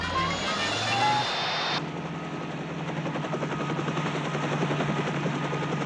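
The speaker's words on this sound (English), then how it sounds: "What kind of helicopter is that?" A helicopter's rotor thumps steadily and loudly nearby, a fast chopping beat over engine whine, after a brief burst of other noise at the start.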